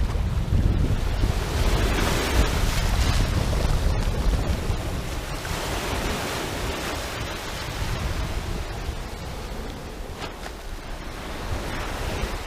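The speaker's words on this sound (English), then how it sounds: "Oh, that's a big wave." Ocean waves break and wash steadily onto a beach, a loud continuous surf roar mixed with heavy wind buffeting the microphone.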